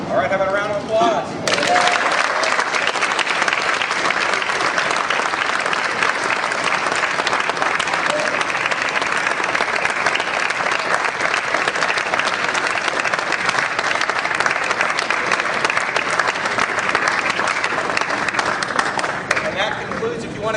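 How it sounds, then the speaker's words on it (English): A crowd claps at a bill signing ceremony, loud sustained applause that stays dense and even for twenty seconds with some crowd noise beneath. "how about a round of applause?"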